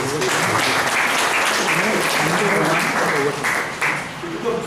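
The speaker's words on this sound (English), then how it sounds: "So let's give a round of applause to those who have organized this." An audience claps for the organizers at the close of a speech evaluation session, a busy, fairly loud patter of many hands with voices talking over and through the applause.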